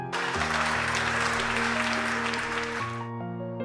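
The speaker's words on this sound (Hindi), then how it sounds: "परफॉर्मेंस के बाद दर्शकों की ओर से तालियों की गड़गड़ाहट गूंज उठी" A burst of audience applause thunders after a dance performance in a Hindi romantic audio drama, dense clapping laid over a soft sustained music bed for about three seconds before cutting off and leaving the music alone.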